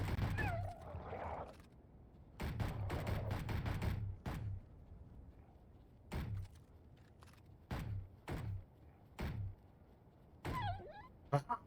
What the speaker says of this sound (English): this is where you pull out your pistol and you start fighting back